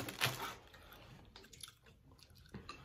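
Close, crisp crunching and chewing of crackers eaten with turkey chili, a few bites and soft mouth sounds at low volume with no talking.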